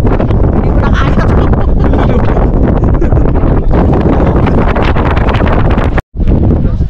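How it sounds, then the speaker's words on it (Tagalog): Strong wind blasts across a microphone beside a highway, a loud continuous roar with gusty rumble that cuts out abruptly near the end. "Grabe, sobrang hangin talaga."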